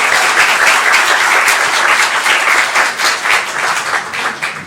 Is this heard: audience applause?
yes